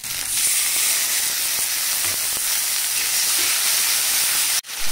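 Dried chilies, spice water and tomatoes hit a hot pan with a loud, steady hissing sizzle and rising steam, close up and continuous until it cuts off abruptly near the end.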